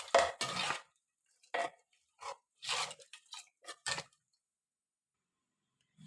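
A spoon scrapes and clinks against a pot while stirring a sardine fish curry with salt before cooking, making a few irregular close knocks followed by quiet.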